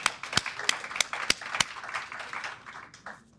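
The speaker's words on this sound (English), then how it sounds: "Can we give her a round of applause, please?" At a chamber of commerce business expo, a small audience applauds a keynote speaker. Several loud, distinct claps come first, then softer, scattered clapping fades over a few seconds.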